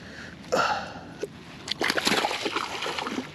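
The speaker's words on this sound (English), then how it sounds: "Nice splash. Thank you for the splash." A fish caught from the bank thrashes at the surface of a pond: a sharp splash, a brief slap, then a near, sustained burst of splashing and sloshing water.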